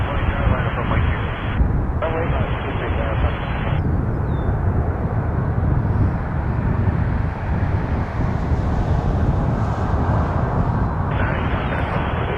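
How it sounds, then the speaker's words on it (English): A WestJet Boeing 737-800 from Orlando rumbles at Toronto Pearson with a broad, steady, loud roar of jet engines filling the whole stretch, while a person talks over it. "Here's the 800 737 from Orlando, WestJet 1227"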